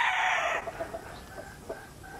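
A gamefowl rooster of a gray bloodline crosses with claret and Boston lines, crowing loudly in one strong burst at the start and then trailing off into faint clucks and background farm sounds.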